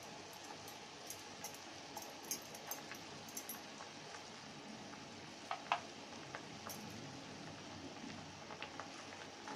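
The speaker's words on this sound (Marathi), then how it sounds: "काढा छान उकळतोय" Herbal kadha decoction with licorice powder boiling in a large pot, a soft continuous bubbling and sizzle with small pops scattered throughout, quiet and close, with no talking.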